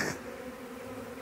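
A dense, steady buzz of a honey bee swarm humming together on a driveway, continuous and fairly close, with no voices.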